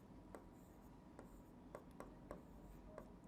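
Faint pen or chalk writing during a physics lesson on vectors, heard as a few brief scratchy strokes spaced irregularly against a low background hum, with no talking.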